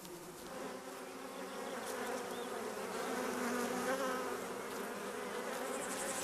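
Honeybees humming inside their hive in winter, a soft, dense, steady buzz of many insects that swells slightly midway, with no speech.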